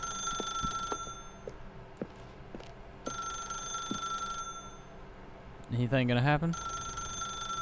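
A telephone rings in the video game The Stanley Parable, repeating in bright, evenly spaced ring bursts with short gaps between them, while someone speaks briefly over it.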